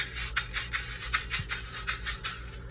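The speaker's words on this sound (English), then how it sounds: "as I pick up my scraper for it that I can get the widow sound" A scraper dragged across a bright metal percussion shaker produces regular scratchy rasps, about nine evenly spaced strokes, close and crisp with no talking.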